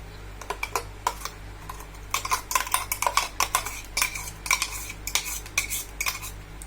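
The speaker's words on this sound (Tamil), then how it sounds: "இப்போ எல்லாத்தையும் நாம கலந்து ஒண்ணா மிக்ஸ் பண்ணிடலாம்." Ground onion and salt being stirred together in a metal kadai, producing a series of quick, close scraping and clinking strokes of a utensil against the pan, fairly loud and steady with no talking.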